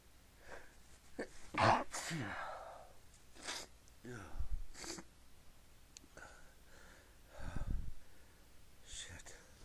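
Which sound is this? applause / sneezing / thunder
sneezing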